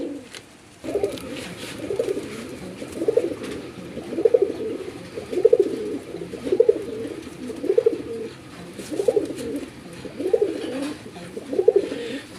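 Male pigeon cooing in a repeating pattern, about nine rhythmic coo phrases spaced roughly a second apart, close and clear over a steady low background with no talk.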